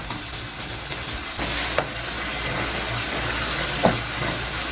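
Macaroni gravy with added water simmers in a pan, a steady close sizzle and bubbling hiss with a couple of brief scraping stirs.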